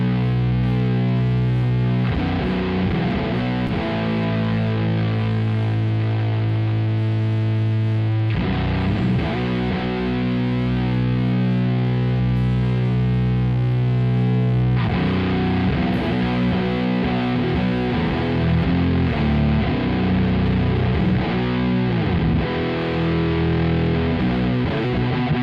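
Heavy, distorted doom-style electric guitar through a free solid-state amp simulator plugin, slow sustained chords ringing loud and thick for the whole stretch, with chord changes every few seconds and no talking.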